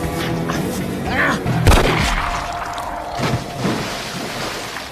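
A gunshot in a mafia revenge film scene, a sharp loud crack with a booming tail amid tense cinematic sound and background noise, followed by further thuds.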